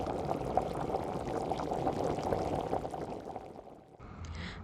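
Oil heats in a large pot or cauldron with a dense, steady bubbling and crackling, loud and close, that breaks off briefly near the end before resuming.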